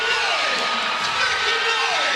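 Sold-out arena crowd roaring and cheering steadily throughout a women's college basketball game, LSU versus Mississippi State, late in the second half; dense, loud wash of voices with whoops, no break.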